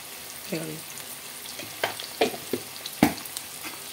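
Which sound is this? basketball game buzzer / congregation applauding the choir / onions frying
onions frying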